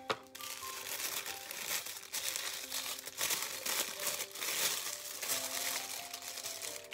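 Continuous crinkling and rustling of paper wrapping being pulled open, close and steady throughout, with no talking.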